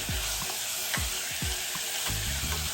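Chicken pieces for a tikka cheese paratha cooking in a hot pan, a constant loud sizzle close up, with several dull scraping knocks as the meat is moved around.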